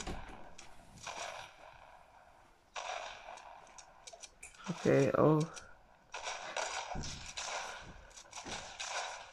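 Gunfire from a shooting video game during a sniper fight, heard as scattered sharp bursts in the middle of the clip, mixed with game noise while a player speaks briefly.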